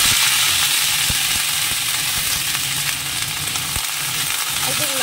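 Dried red chilies and panch phoron fry in hot oil, giving a loud, unbroken sizzle close by, dotted with sharp crackles and pops from the spices.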